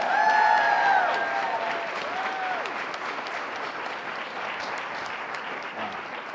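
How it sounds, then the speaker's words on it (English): An audience applauds student panelists at an evening discussion on the teaching profession, the clapping steady and moderately distant, with a couple of whistles or whoops near the start before it settles into an even patter. "let's give our student panelists another round of applause"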